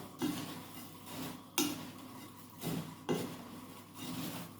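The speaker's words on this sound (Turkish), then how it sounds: "Tamamen bisküvilerime bu karışımı yedirene kadar bu şekilde karıştırmaya devam edeceğim" A spoon stirring a biscuit and walnut cake mixture in a bowl, scraping and knocking against the sides in a slow, regular rhythm, quiet and close.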